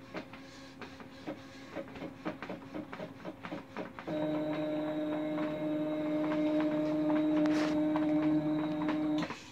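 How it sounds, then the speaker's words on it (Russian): An Epson SC-P600 printer set up for direct-to-garment printing, white on black, ticks out a quick run of mechanical clicks, then settles into a steady tonal motor whine and hum with faint clicks on top. "Принтер хочет на второй заход для печати уже по белому цветным, поэтому он сейчас ждет."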